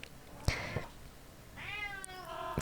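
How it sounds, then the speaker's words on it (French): A cat meows twice, the first call short and the second a longer rising then falling meow, heard close and clear with faint thumps and no talking. "T'as fini de faire miaou tout le temps."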